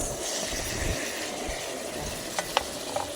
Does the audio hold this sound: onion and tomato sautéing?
yes